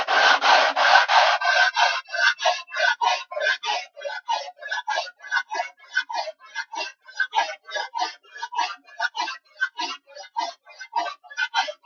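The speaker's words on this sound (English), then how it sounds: "we marked base here, and we give it a good sanding again" Sandpaper worked by hand across the wooden base of a DIY camping chuckbox, a rapid rhythmic back-and-forth rasping, close and loud, steady strokes for about twelve seconds.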